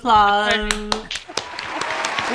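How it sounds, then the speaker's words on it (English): A voice is heard at the start, then scattered claps break out and build into light applause from a small group on a talk show set. "Applause."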